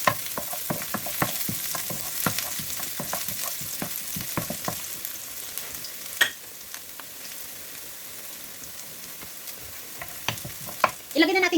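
Garlic frying in a hot pan with onion, a steady crackling sizzle punctuated by rapid stirring clicks and scrapes, then a calmer stretch and a few sharper clatters near the end.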